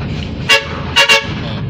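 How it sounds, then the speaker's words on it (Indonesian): A bus on a two-lane road in West Sumatra sounds its horn at oncoming traffic: one short toot, then a quick double toot, loud and close over a low engine rumble. "kita wajib membunyikan beberapa klakson mobil"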